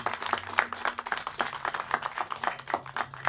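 Scattered, uneven applause from a small audience at a press briefing for the grand opening of a tiny-homes village, crisp individual claps close by rather than a full roar.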